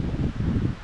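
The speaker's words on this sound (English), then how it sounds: "Very, very windy." A brief burst of gusty wind at a pond buffets the microphone with low rumbling noise, steady and close, no voices.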